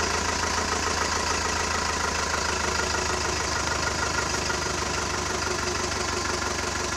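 Toyota Bandeirante engine idling on an off-road trail, a steady, loud, even diesel-like rumble with a constant low throb that holds unchanged throughout, no voices over it.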